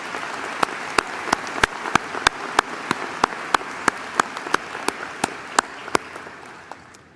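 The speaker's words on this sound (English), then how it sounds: "Let's give them all a big round of applause" An arena crowd at a spring university commencement ceremony claps in a sustained wash of applause, with a loud, regular, sharp clap near the microphone cutting through at a steady beat.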